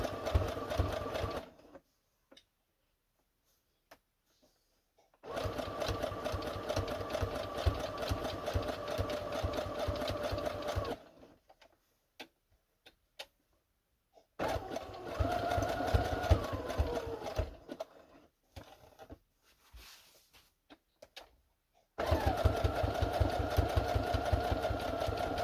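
A sewing machine stitches fabric in several separate bursts of rapid, steady needle clatter, with quiet pauses between runs.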